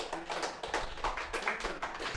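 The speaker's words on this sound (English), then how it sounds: "Clap for first row student name." A classroom group applauds a student, a scattered patter of hand claps at a steady moderate level, fairly close, ending with a sharper burst.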